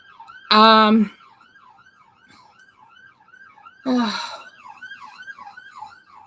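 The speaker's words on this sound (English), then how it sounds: "Sorry, round here it's always sirens." A wailing siren sweeps up and down continuously in the distance, with two short loud bursts of sound cutting over it.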